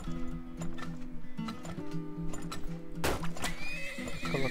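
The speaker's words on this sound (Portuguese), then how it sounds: "Tá, vou comprar mais um cavalo" In the oil-drilling game Turmoil a horse gives a loud, bright whinny near the end, after a run of clip-clopping hooves and light ticking game sounds.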